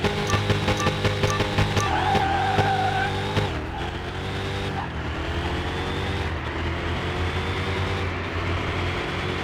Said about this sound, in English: I heard that car wreck.